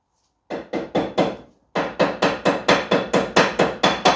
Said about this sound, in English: I've shaped this end of this bit of brake pipe there, just a bit roughly with a hammer